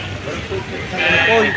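Sheep bleat at a livestock market in Padre Garcia, Batangas, while being weighed, a loud close bleat rising in the second half over the chatter of people talking nearby.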